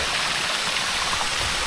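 A waterfall flowing into a lagoon produces a steady, full rush of falling water. It is close and continuous, with no voices over it.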